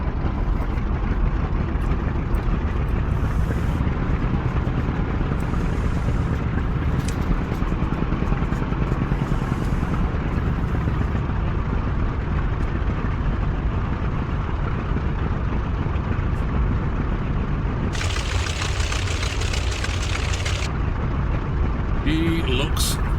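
An FW190 A-8 aircraft engine in a flight simulator taxiing along a runway, a continuous loud rumbling drone with rattling clatter, steady throughout.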